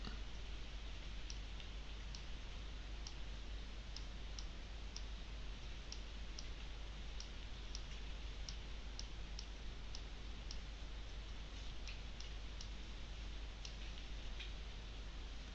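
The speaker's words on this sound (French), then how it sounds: "Et je clique sur envoyer." A computer mouse clicks repeatedly while an electronic document signature is finished, giving crisp, faint, closely spaced ticks over a constant low hum in a quiet room.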